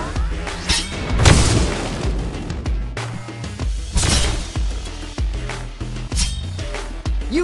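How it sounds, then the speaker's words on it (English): An orb is destroyed in the mobile game Teenage Mutant Ninja Turtles: Half-Shell Heroes, with booming crashes and shattering bursts repeating over a busy game soundtrack, loud and dense throughout. "You destroyed the last orb and cut off Kraang communication."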